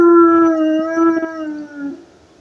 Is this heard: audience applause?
no